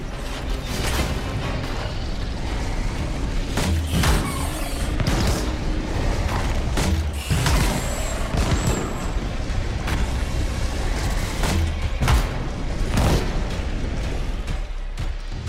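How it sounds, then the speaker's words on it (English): Flamethrower and grenade launcher fire in the video game Anthem give a steady roaring hiss broken by repeated sharp bursts and booms, loud and close throughout. "Let's have Scylla in front with his flamethrower and have you support him with your grenade launcher."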